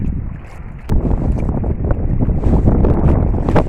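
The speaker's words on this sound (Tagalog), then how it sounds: "Mahina na yung hangin." Steady wind roars across open sea from a fishing boat, a broad rushing noise that swells after the first second and stays loud throughout.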